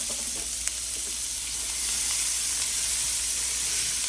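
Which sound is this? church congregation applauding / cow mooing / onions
onions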